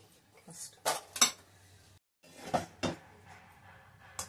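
A metal kadai pan is set down and shifted on a kitchen stove, giving a few sharp clanks and scrapes in two short bursts with a pause between, fairly close and moderately quiet.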